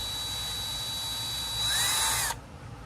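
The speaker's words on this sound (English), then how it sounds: "what I'm going to try and do now is at least get the threads cleaned up on the bolts" A power drill, heard with a faint steady whine and then a brief louder whirring burst before stopping, is used to clean up the threads on bolts.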